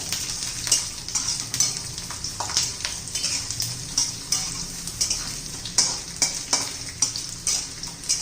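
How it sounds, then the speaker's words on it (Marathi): Garlic and ginger fry and sizzle in a pan for bitter gourd masala, with a spoon scraping and stirring in repeated clinks and scrapes over a steady crackle, close and fairly loud. "त्याच्यातच लसूण घालायचं आहे आलं घालायचं आहे थोडं चांगलं तांबूस होईपर्यंत"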